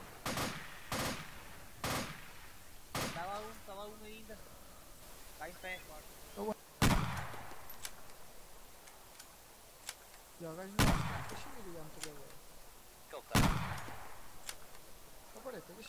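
Gunfire from the Arma 2 Operation Arrowhead video game: sharp, loud single shots at irregular intervals, with people talking between and over the reports.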